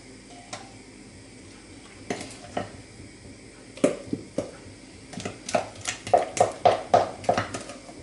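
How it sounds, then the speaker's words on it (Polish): A spoon scrapes and knocks against a metal pot as cheesecake mixture is transferred into it, irregular at first and then in quicker repeated clinks, close up and without talk. "Przekładamy masę do garnka i będziemy podgrzewać."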